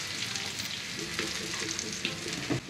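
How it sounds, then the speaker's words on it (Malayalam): Green chillies, shallots and popping mustard seeds fry in hot coconut oil for a Kerala jackfruit-seed and mango curry, giving a steady, close, dense sizzle with light stirring scrapes and no talk. "3-4 പച്ചമുളക് കൂടി ഇട്ട് കൊടുക്കാം."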